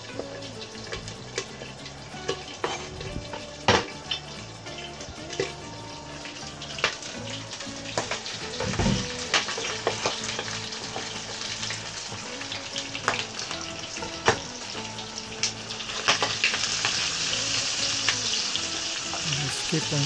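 Garlic sizzling and frying in a pan while being sauteed for pinakbet, a continuous close crackle with scattered pops and stirring scrapes, growing louder and denser toward the end.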